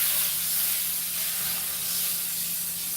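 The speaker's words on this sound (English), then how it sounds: "Rinse that pan in between just like we did for the salmon" Water spraying and rinsing a cooking pan in a home kitchen, a steady broad hiss that runs without a break for a few seconds, fairly close and loud, with no talking.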